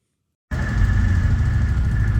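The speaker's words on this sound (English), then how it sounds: "you can hear the generators thumping away" Linear generators run at a generator site beside exhaust chimneys, a steady loud low thrumming engine drone that starts abruptly and continues without a break.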